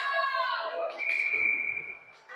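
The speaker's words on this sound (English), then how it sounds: "And we have a whistle for offsides." A referee's whistle blown to stop play for offsides in a youth ice hockey game, a sustained shrill tone lasting about a second in a rink, with voices in the background.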